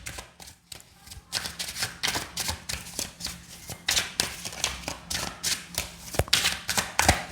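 Tarot cards are shuffled and pulled in a close, soft series of papery riffles and taps, arriving in irregular bursts with brief pauses between them.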